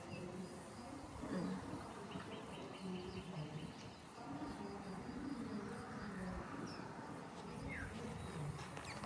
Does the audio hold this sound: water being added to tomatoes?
no